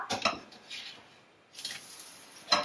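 A protein crepe flipped over in a pan: a few sharp scraping and clattering utensil-on-pan sounds, a soft shuffle midway, then a final clink, close and fairly quiet with no talking.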